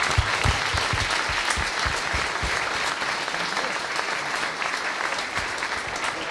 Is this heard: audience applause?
yes